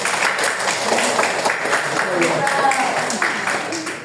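A class applauds during a primary-school teaching practice lesson, a dense wash of clapping hands filling the room while voices carry over it.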